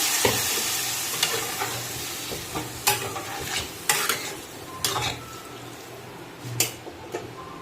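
Jackfruit seed curry with ginger paste and green chilli sizzles and fries in a pan while a spoon stirs and scrapes against the metal in repeated sharp clinks, close up, with no talking.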